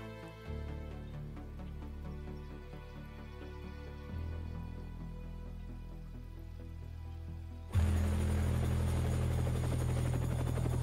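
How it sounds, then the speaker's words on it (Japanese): In the riot game RIOT, a helicopter drones over a protest scene at night. Its sustained, layered rotor hum shifts in pitch and loudness in a few abrupt steps, and it grows loudest and fullest near the end. "ヘリだね、ヘリ。"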